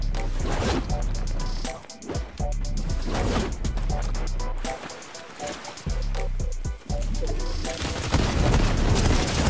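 Video-game gunfire in a shootout on a rollercoaster map: dense, close bursts of rapid shots nearly throughout, broken by a few brief pauses, loud and continuous with occasional faint voice underneath.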